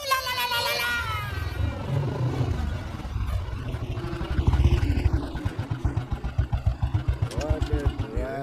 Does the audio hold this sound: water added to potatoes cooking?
no